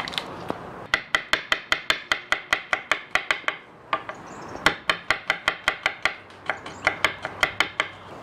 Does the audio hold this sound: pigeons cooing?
no